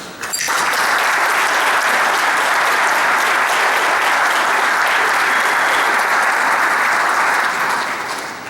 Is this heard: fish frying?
no